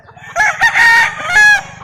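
A Flarry Eyed gamecock rooster crows loudly and close by, one long harmonic call broken into a few bursts, with faint background rumble.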